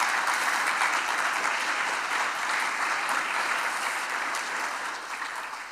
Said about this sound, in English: Another huge round of applause for our local committee, especially Alessandra and Rachel